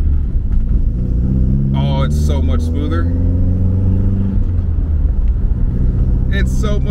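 A Mercedes W201 with its misfire fixed now runs smoothly on all four cylinders while driving, giving a loud, steady engine drone and a rising rev. Someone talks over it.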